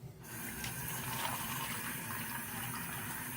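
Water runs steadily from a hotel room sink tap into a container, a soft continuous gush and trickle that holds at an even level throughout with no talking.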